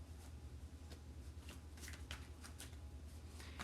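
Tarot cards are shuffled back into a deck, a soft rapid riffling of card edges over a low steady hum, close and faint with no speech.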